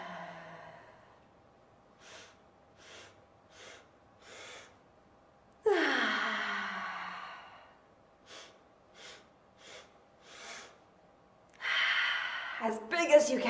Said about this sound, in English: we'll take a big breath in. And a big breath out.